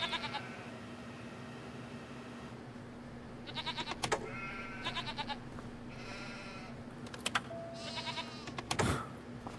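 Goats bleat several times in short bursts in the video game Farming Simulator 25, over a steady hum and background noise, with no voices.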